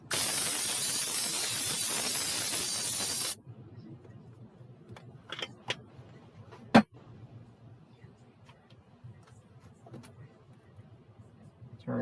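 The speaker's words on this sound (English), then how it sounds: "Grab my Pam spray again." A loud, steady hiss of Pam cooking spray lasts about three seconds, then stops, leaving a quiet room with a few faint clicks and knocks.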